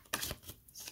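A card drawn from a deck during a tarot reading, heard as a soft, brief papery swish with a couple of quiet rustles, close and faint.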